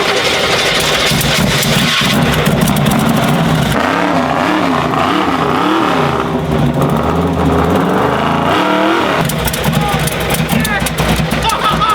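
An engine comes to life for the first time in four years, rumbling loud and close and revving in repeated rising and falling surges, with people talking over the noise.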